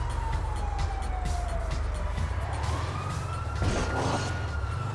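Police car siren in the video game GTA V wails continuously in a slow rising and falling sweep over a low engine drone, fairly loud, with a brief burst of added noise near the end.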